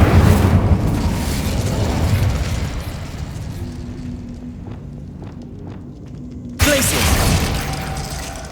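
A loud, roaring burst of flame from the Incendio fire spell in Hogwarts Legacy rumbles and fades over several seconds, then a second fiery blast erupts suddenly near the end.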